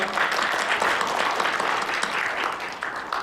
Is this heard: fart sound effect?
no